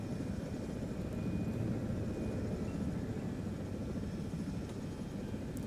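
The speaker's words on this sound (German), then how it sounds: "Ey, Heli, halt still jetzt." Helicopter hovering in the video game Jurassic World Evolution, a steady, continuous rotor and engine drone that holds level and fairly loud throughout, with no voices over it.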